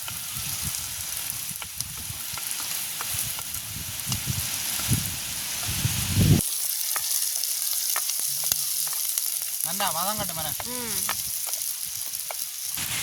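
Curry leaves sizzle and crackle loudly in hot oil as they are stirred in a pan, a dense frying hiss with scraping strokes, then a quieter sizzle with brief tonal background sounds.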